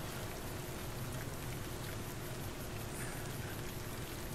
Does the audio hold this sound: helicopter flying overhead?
no